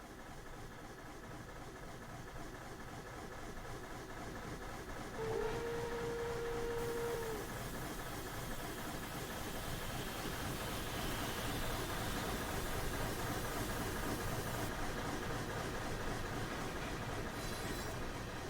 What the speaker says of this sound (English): Sound of the rolling stock's okay.